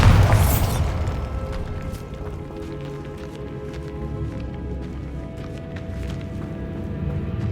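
A Bombarda spell blast in Hogwarts Legacy hits with a loud, deep boom at the start and decays over about a second. A low rumbling game ambience with faint clicks and tones continues after it, and no one speaks.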